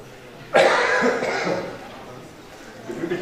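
In a physical chemistry lecture hall, a sudden loud cough bursts out, followed by a fading rasp and faint throat noises; no speech over it.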